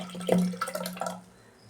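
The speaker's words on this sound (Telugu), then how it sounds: "ఈ నానబెట్టిన చింతపండు రసం వేసి" Soaked tamarind juice is poured into mashed dal, a short soft splash and trickle of liquid up close, tapering off into quiet after about a second.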